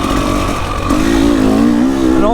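An old-school Kawasaki KLX dirt bike engine drones close by at a wet enduro event, its pitch rising steadily as it revs, while someone talks over it.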